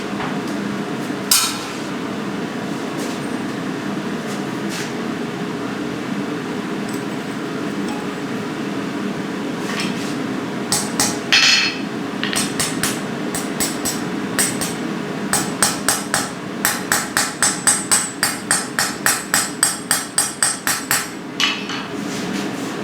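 Hammer blows on a hot forge weld for a metal sunflower, starting sparse and turning into a fast, steady run of ringing strikes near the end over a constant forge roar.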